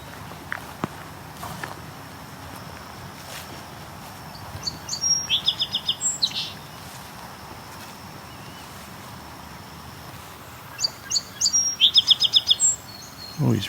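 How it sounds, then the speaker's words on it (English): A song sparrow singing outdoors, two bright, sputtering phrases of chirps and trills several seconds apart, moderately close over a steady background hiss and faint footsteps. "There's a song sparrow."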